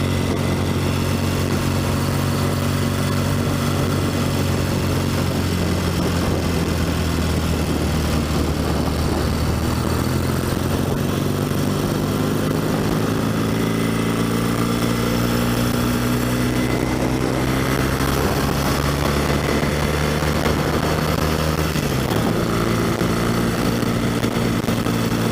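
A 1964 Royal Enfield Interceptor 750 motorcycle engine idles steadily close by, a continuous low rumble that shifts slightly in pitch as revs drift, running alone without talk.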